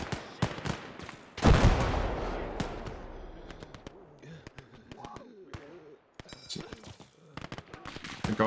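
A sudden loud explosion bursts in the Gates of Hell war game and rumbles away. Scattered gunfire cracks sound before and after the blast.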